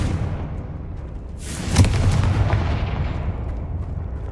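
A Confringo fire spell explodes in the video game Hogwarts Legacy, a single loud booming blast with a sharp crack followed by a rumbling, fading tail.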